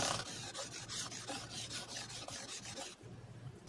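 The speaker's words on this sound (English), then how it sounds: "I'm just going to go ahead and hit the edge of these frets like this." Micromesh polishing sponges rasp across the fret edges of an Ibanez RGD1X7MPD electric guitar in quick, regular back-and-forth strokes, close and steady, stopping near the end.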